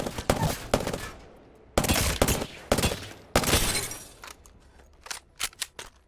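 Bursts of automatic gunfire from the video game Apex Legends, several rapid sprays with pauses between them, loud and sharp, ending in a few scattered single shots.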